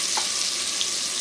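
Trinity vegetables and garlic sizzle in a hot pressure cooker pot, a steady close broadband hiss with a faint clink near the start, no talk.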